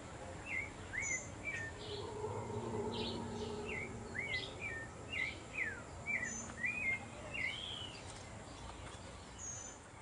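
Birds sing in a tropical park, a run of bright chirps and whistled notes repeating in quick phrases over a soft, hazy background of distant ambience.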